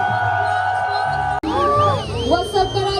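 A large outdoor concert crowd at the Eiffel Tower replica in Bahria Town, Karachi, cheers and whoops, loud and sustained, with a voice carrying over the roar and a sharp cut midway.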